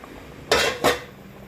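A lid set onto a cooking pot of sinigang na bangus, two quick metallic clanks about a third of a second apart, close and fairly loud against a quiet kitchen.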